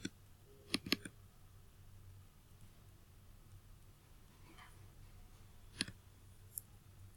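Mouse clicks on a computer's export-to-CSV button: a quick cluster of sharp, faint clicks near the start, then one or two more isolated clicks later, over a quiet background hum.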